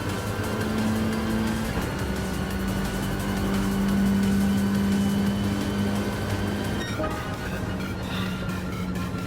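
Race car engine in Gran Turismo Sport, a Volkswagen Gr.4 car, holding a steady droning tone that rises briefly before a shift near the end, loud and continuous with no talk.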